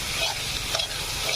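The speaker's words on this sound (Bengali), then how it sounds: "এবার ভাজা আলুটা এর মধ্যে দিয়ে নেবো।" Fried potato pieces are stirred into a sizzling spice masala for a village-style pangas catfish curry, giving a short burst of scraping and steady frying hiss, close and alone.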